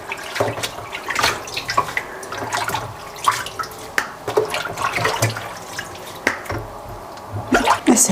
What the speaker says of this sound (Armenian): Ջուրն այնքան սառնավոր։ Դե մրղուզից է գալի, ընդեղ էլ ձյունը նստած է դեռ